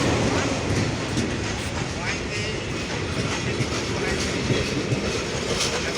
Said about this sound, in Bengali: 6542 লোকোমোটিভ নিয়ে চিলাটি থেকে ছেড়ে আসা খুলনাগামী আন্তনগর টাউন সীমান্ত এক্সপ্রেস ট্রেনটি সৈয়দপুর ইন করলো।